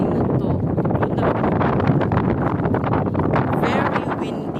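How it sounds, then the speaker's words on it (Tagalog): Strong gusty wind buffets the microphone outdoors near a building in a Romanian city park, a constant loud rumbling roar with fluttering bursts throughout. "Very windy."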